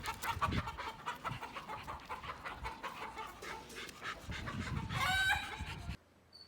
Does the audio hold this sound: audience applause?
no